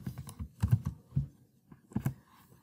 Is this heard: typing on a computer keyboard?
yes